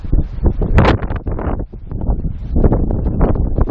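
Strong wind gusting on the Coffs Harbour coast, a popular windsurfing and kitesurfing spot, buffeting the microphone with loud, uneven roaring bursts that rise and fall throughout.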